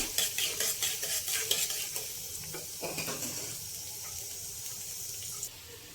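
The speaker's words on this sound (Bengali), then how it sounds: "ফোড়নের জন্য নিয়েছি পেঁয়াজ রসুন, এবার আমি ভালোভাবে ভেজে নেব।" Onion and garlic frying in hot oil, a bright crackling sizzle with rapid rhythmic spatula scraping at first that eases into a steadier hiss, close and without voices.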